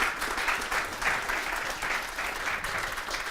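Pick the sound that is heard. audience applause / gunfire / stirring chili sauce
audience applause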